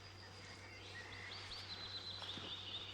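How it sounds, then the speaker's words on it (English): Birds chirp and trill faintly and steadily outdoors, a thin, continuous layer of high calls over a low, steady hum. "Silence the birds."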